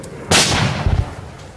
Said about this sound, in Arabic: اشتباكات عنيفة على اسوار مطار دير الزور العسكري